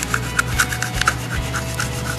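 A scraper drags across a finish run on a granite surface in quick, rhythmic strokes, each giving a short, close rasp, with roughly a dozen scrapes over a couple of seconds and no talk.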